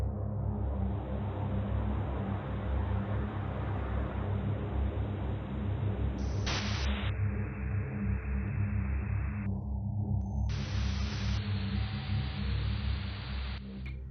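Shortwave radio static and distortion: a dense, steady hiss with a low hum that abruptly shifts tone several times, with brief dropouts and sudden changes in the band of noise.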